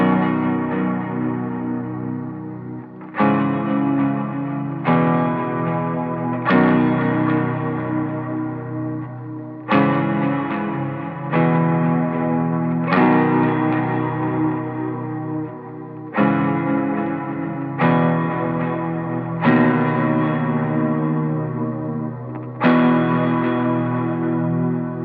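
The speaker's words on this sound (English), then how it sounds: "So slight overdrive. I'm using the steel string here. Same delay, same reverb." Electric guitar chords with slight overdrive strummed as steady repeated quarter notes, each ringing out with delay and reverb tails, no talking.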